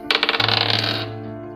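Dice in a tabletop game clatter and rattle in quick bouncing clicks on a hard surface, fast at first then settling into a ringing hum.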